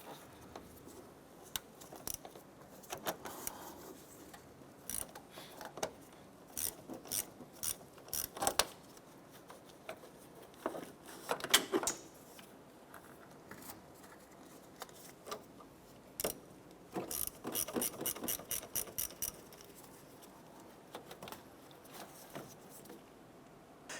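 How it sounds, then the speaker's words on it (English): A 10mm socket on a ratchet loosens the battery terminals of a 2006-2013 Chevrolet Impala, giving quiet, close clicking bursts of pawl ratcheting, sometimes rapid, with short pauses between runs. "10mm socket and ratchet, we're going to go ahead and loosen and remove our battery terminals."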